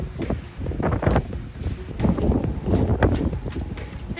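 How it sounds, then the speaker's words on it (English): Strong outdoor wind in Hawaii buffets the microphone in heavy, uneven gusts, rumbling loud and close throughout. "It's super windy, my gear keeps falling"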